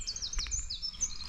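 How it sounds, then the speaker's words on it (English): A wren sings a rapid, high-pitched trilling song, bright and fairly close, with faint background noise and no talking. "We got a wren as well."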